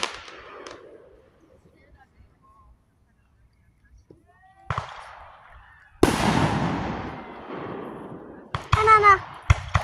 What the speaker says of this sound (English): Keep it on the fireworks like that.